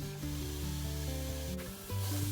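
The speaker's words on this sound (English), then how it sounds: "I'm just gonna put this in a hot skillet." Lean ground beef sizzles in a hot skillet with a loud, even hiss, and steady music plays beneath it.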